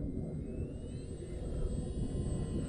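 A HobbyZone Carbon Cub S2 light foam RC plane comes in to land in the wind, its small electric motor a faint thin whine above loud, rumbling wind buffeting the microphone.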